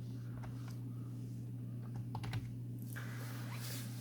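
Computer keyboard typing during a spreadsheet-style cost calculation for interior construction, a few quick soft key presses in short clusters over a steady low hum, fairly quiet and close.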